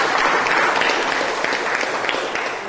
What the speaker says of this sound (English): Welcoming Devesh with a big round of applause.